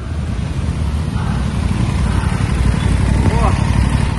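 An Aprilia RS 660 motorcycle on a test ride gives a steady, close engine drone that grows slightly louder, mixed with wind rush, and a rider talks briefly over it.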